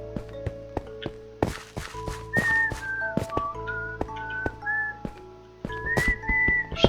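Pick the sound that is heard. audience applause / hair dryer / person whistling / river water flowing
person whistling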